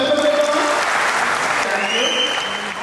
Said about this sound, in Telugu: సో వాళ్ళ కోసం ఒకసారి గట్టిగా క్లాప్స్ కొట్టి వెల్కమ్ చేద్దామా?